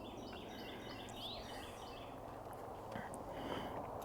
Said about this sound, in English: all the birds are raising Cain